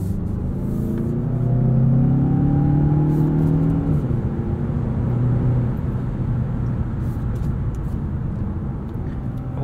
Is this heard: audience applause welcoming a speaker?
no